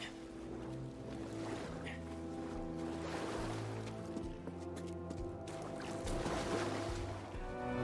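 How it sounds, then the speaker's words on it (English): Underwater swirling and splashing from a Star Wars game, a steady wash of water noise with a low musical drone beneath it. "You'll take a plunge into a body of water."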